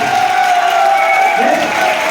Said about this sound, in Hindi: एक बार बजाओ जोरदार तालियां